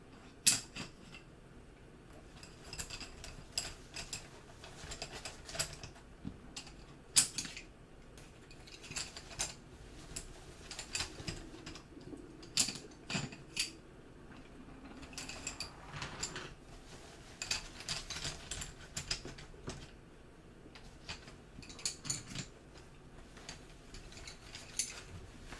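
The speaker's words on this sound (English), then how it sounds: "Make some little nice pencil noises for you." Soft scratchy strokes of colored map pencils on paper, a steady patter of small taps and scrapes, quiet and close, with no talking.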